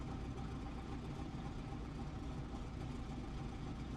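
A F4U-1D Corsair's radial engine runs steadily in the DCS flight simulator, a low, even drone at moderate level with no change in pitch or loudness.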